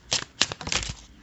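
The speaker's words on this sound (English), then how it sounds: "I'm gonna shuffle from other deck actually" Tarot cards being shuffled by hand during a card reading, a few quick papery riffling bursts close up and fairly quiet, with no talk.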